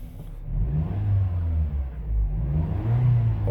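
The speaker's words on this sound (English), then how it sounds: "When you see your car idling super bad" A 2008 Acura RDX engine idles roughly up close, a low uneven rumble that surges and dips in loudness without steadying, with no talking over it.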